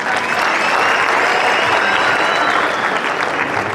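Mourners at a burial gathering in Narok, Kenya, break into sustained, dense applause, many hands clapping at once, loud and steady for several seconds with faint voices mixed in.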